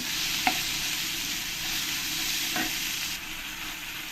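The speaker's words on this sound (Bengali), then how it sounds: "দিয়ে ভালো করে একটু সময় এরকম করে মশলার সঙ্গে কষিয়ে নেব" Four green chillies sautéed with masala in a pan of katla fish belly and mituli, a continuous loud sizzle close up with a couple of soft spatula taps, no talking.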